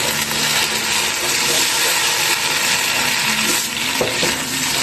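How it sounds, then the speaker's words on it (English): White wine poured into a hot casserole of prawns for a prawn and orzo kritharoto, giving a steady, loud, close sizzle and hiss that runs unbroken throughout with no talking. "We're just going to go in with a little bit of white wine on the bottom of the casserole just to bring that all together there"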